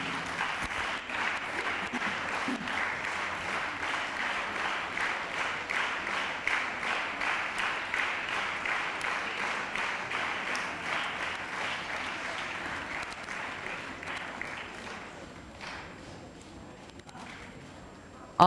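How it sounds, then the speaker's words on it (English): Sustained applause from an audience at an inter-school literary and cultural meet, welcoming a guest speaker; steady, dense clapping fills the hall for about fifteen seconds, then thins and fades out near the end. "A big round of applause to welcome Mr. Jamyang Punzola."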